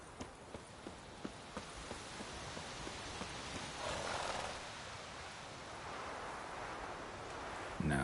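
Geralt's horse Roach in The Witcher 3 clops along with light rhythmic hoofbeats early on, faint under a steady rain-like wash of ambient noise, with a brief swell of rumble midway.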